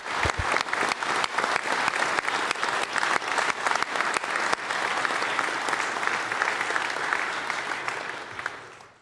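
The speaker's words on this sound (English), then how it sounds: "I would urge all of you to give them one more round of applause." An audience in the Ohio Senate chamber applauding Ohio's astronauts: dense, sustained clapping from many hands in a large room, steady for several seconds before gradually fading out.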